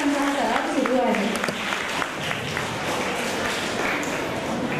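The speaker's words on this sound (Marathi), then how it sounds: "टाळ्या वाजवूया जोरदार" Students applaud in a school auditorium during a stage program, a dense burst of clapping that starts loud and settles into a steady, sustained patter, with voices mixed in.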